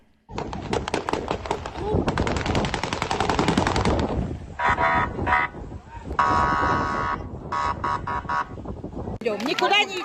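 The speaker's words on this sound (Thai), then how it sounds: "ยิงปืนขึ้นฟ้าเพื่อควบคุมสถานการณ์การประท้วง" Police fire rapid bursts of gunshots into the air at a protest in Russia against reservist mobilization, crackling amid a loud, chaotic crowd, with shouting voices and a siren-like tone cutting through near the end.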